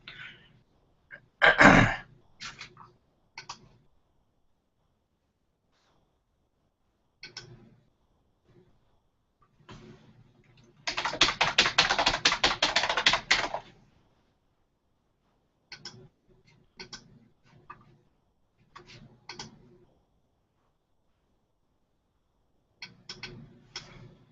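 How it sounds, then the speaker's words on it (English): Typing on a computer keyboard during a writing marathon: sparse, isolated key clicks separated by silence, with one dense, sustained flurry of rapid keystrokes lasting a few seconds midway, all close and fairly quiet. "I'm so self-conscious about my typing now"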